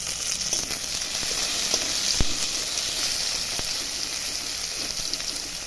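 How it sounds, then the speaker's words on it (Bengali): Chopped tomatoes sizzle in a pan with lightly browned onions in oil while cooking a pabda fish curry, a steady close crackling hiss with a couple of brief utensil taps. "এখন টমেটোগুলো দিয়ে দিচ্ছি।"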